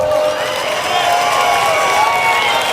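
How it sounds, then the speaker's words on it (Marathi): A large audience at a public gathering in Shilphata claps and cheers in a loud, sustained roar of crowd noise that runs unbroken throughout. "एकदा जोरदार टाळ्या वाजवा मग."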